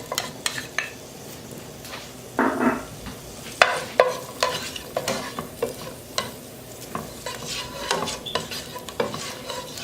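Fresh garlic sizzling in olive oil in a pan, stirred with a utensil that scrapes and clicks repeatedly over a steady soft frying hiss, close and moderately loud with no talking.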